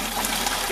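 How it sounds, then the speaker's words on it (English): Water gushes and trickles out of a removed cooling hose on a Camaro, a short, steady, close splashing drain with no talking. "Get all that water out"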